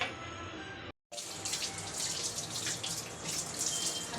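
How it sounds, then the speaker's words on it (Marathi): Tap water runs steadily over rolled taro leaves being rinsed in a kitchen sink, a close, continuous splashing hiss with one brief cut in the flow near the start. "मी आता स्वच्छ चांगले धुवून घेते"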